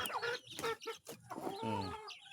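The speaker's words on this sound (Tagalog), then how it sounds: "ayan po ang ating mga alagang sisiw" Young chicks being raised and treated with medication peep and cluck in rapid bursts, close and fairly loud, continuing with no speech throughout.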